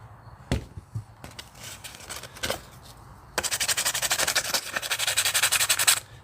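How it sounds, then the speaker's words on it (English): Close, rapid back-and-forth scratching of sandpaper in a steady rhythm, preceded by a few scattered knocks and rubs. "basically speaking, you take some sandpaper"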